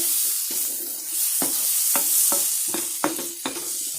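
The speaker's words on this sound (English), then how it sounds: "So now if the garlic is in there, I'm still stirring, I'm still stirring." Garlic sizzles steadily in a pan while a utensil stirs it in repeated scraping strokes, each one a brief clatter over the constant frying hiss, close and fairly loud.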